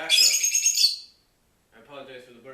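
A bird chirps in a short bright burst of tweets behind an indoor talk about cartoons on Blu-ray, then falls quiet before a voice begins speaking.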